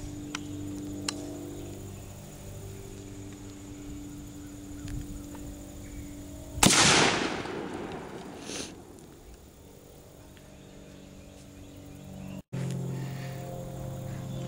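A single firearm shot sending a 150 grain NOE cast bullet into a penetration test: one sharp, loud report midway, trailing off in a decaying rumble amid a quiet outdoor background, no voices.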